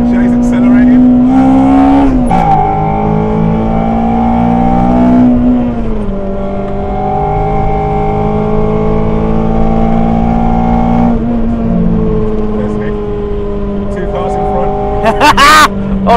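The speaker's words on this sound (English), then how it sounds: "They're braking, Jay's accelerating." A race car on Pilot Sport 5 tyres accelerates around the Donington track, its loud, continuous engine drone rising in pitch between gear changes, with a brief high squeal near the end.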